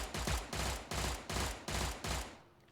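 A gun in the video game Cordon firing six short rapid bursts, each a dense crackling roll of shots separated by brief gaps, loud and close, ending in a quiet tail.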